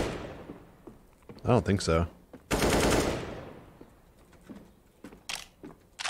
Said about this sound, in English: you can shoot right through this?